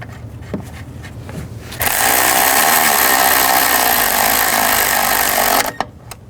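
Bolts being run back in on a 2010-16 Buick Lacrosse engine during a spark plug job, heard as a loud, steady power-tool whir lasting about four seconds, with quieter clicks and handling noise before and after.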